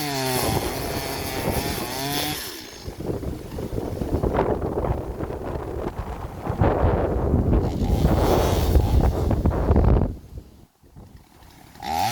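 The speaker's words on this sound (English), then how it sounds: "Oh, it's windy." Strong wind buffets the microphone in heavy gusts, with roaring rumbles rising and falling before a brief lull near the end.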